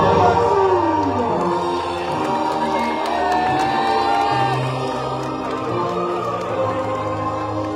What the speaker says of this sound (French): Mesdames et messieurs, applaudissements pour Yoni.